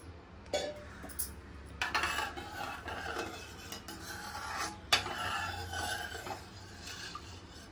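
A spoon scrapes and rasps around a metal pot as rice is stirred into hot milk for rice kheer, with intermittent clinks and steady rubbing strokes close up and no voices.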